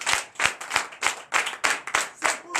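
Congregation clapping in rhythm at a Sunday worship service in Comè, Benin, steady repeated handclaps about every third of a second, loud and close, with no speech over them.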